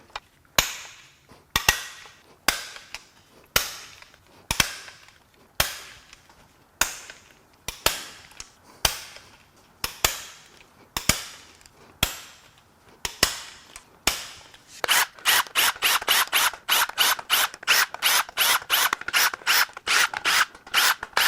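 Cordless impact wrench taking main cap bolts out of a BMW S85 V10 engine during teardown: a series of loud separate ratcheting hammer bursts with pauses between, then one long rapid run of rattling impacts near the end.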